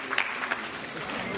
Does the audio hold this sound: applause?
yes